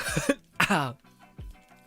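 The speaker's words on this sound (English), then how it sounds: "Oh, I gotta sneeze." A sudden, forceful sneeze bursts out near the microphone, followed by a short sniff and a quiet breathy exhale.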